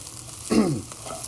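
Steak cooking in a pan gives a single short, loud hiss and sizzle burst that rises from a steady background and fades within a fraction of a second, with no voices over it.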